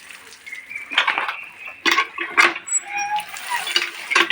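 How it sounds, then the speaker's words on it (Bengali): Water splashes and runs while the gap around a kitchen gas stove is rinsed, in uneven bursts with some clinks of dishes or metal, close by and with no talking. "আর এটা গ্যাসের ওইখানে ফাঁকটা এটা ধুয়ে নিচ্ছি"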